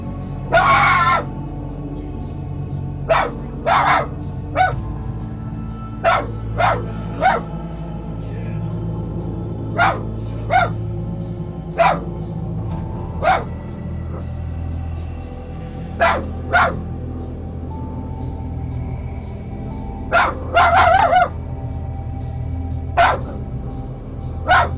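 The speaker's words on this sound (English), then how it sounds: "dog Buffy would occasionally bark aggressively at nothing" A dog barks aggressively at a bedroom door, sending out sharp barks singly and in short clusters at irregular intervals over a steady low indoor hum. The barks are fairly close and loud.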